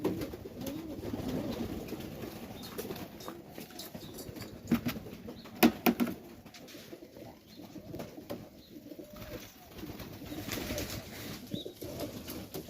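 Tippler pigeons coo softly and repeatedly at close range, with bursts of wing flapping and rustling partway through, and no talking.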